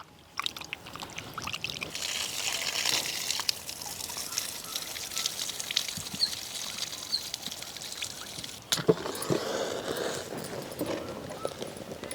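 Water runs steadily from a tap while raw chicken is rinsed and handled, with splashing and occasional knocks.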